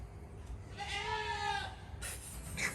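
A goat bleats on a farm near a goat coop and chicken coop, one drawn-out wavering call, close and clear, with rustling and faint clatter before and after it.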